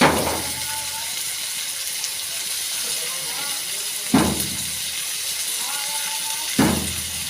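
Ginger, garlic and onion paste hits a hot pan of fried onions, setting off a loud sizzling burst that recurs twice more over a steady steamy hiss.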